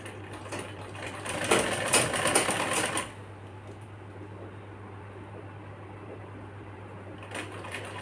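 A sewing machine stitches a girl's one-piece frock dress: a loud, steady run of rapid needle clatter for about three seconds, then a low motor hum, and a brief second burst of stitching near the end.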